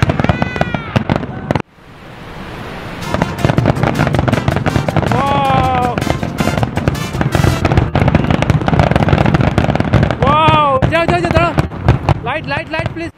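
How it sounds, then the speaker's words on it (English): Independence Day fireworks in Michigan crackle and bang in rapid, dense bursts for over ten seconds, with excited voices and squeals mixed in throughout. "The fireworks are done, and I really love the fireworks because it looks like glitter in the sky."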